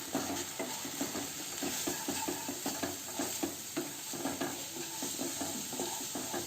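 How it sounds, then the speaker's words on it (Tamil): A utensil scrapes rhythmically around a pan in repeated strokes over a constant sizzle of spices frying for potato and pea gravy, close and fairly steady throughout. "இது எல்லாம் சேர்த்து நல்லா கலந்து விட்டுக்கணும்."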